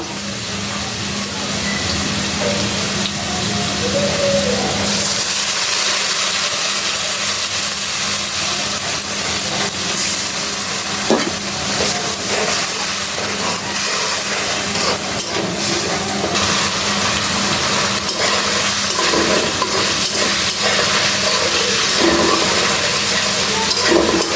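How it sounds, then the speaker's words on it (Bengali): Potatoes fry with turmeric, salt and chili powder in hot oil, giving a steady, dense sizzle with occasional stirring scrapes, close and continuous with no talking. "আলুগুলো সুন্দর করে ভেজে নিছি এখন দিয়ে দেবো মশলা হলুদ লবণ মরিচের গুঁড়া"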